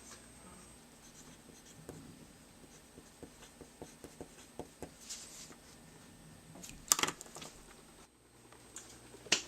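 A pen writing on paper, soft close scratching strokes in short bursts with a few louder taps and rustles near the end in a quiet room.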